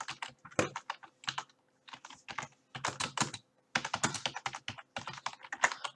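Rapid bursts of keystrokes on a computer keyboard as a chat message is typed during an online game, clattering in quick uneven runs with short pauses between words, close and fairly loud.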